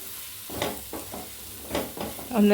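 Chilli powder fries and is stirred in a pan while making a Kerala curry, with soft sizzling and a few scraping stirs, ending in a brief louder clatter.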